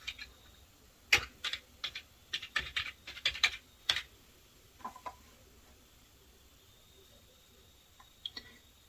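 Keys tapped on a computer keyboard while a phone number is entered, a quick run of close, crisp clicks followed by a few scattered keystrokes, with no talking.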